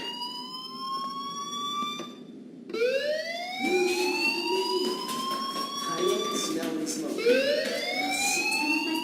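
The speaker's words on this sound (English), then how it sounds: "do you hear that fire alarm? That means you should be outside." A fire alarm in the video game Life Is Strange sounds in repeated rising electronic sweeps, loud and near, with a short silent gap before it starts again and continues through the rest of the clip.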